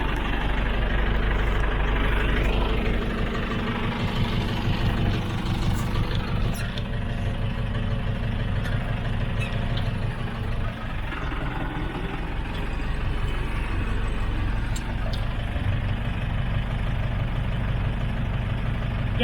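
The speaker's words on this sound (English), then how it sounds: "So I'll take you for a ride on the tractor." A tractor engine runs steadily at a deep, rumbling idle beside a sewage trench being filled with aggregate, loud and continuous throughout with no talking.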